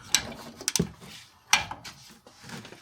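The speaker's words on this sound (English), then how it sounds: "time to put on my torque wrench" Torque wrench being set on a 2nd-gen Toyota Tacoma rear differential at 36 foot-pounds, giving a few sharp, close metallic clicks and ratcheting snaps with quiet gaps between them.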